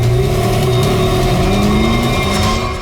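A large red jeep-like car drives off, its engine loud and close as it revs and pulls away in a steady rising roar that eases slightly at the end.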